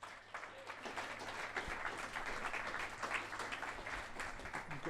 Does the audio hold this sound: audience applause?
yes